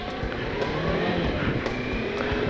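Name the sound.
motorcycle riding with engine running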